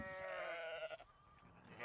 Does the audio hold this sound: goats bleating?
yes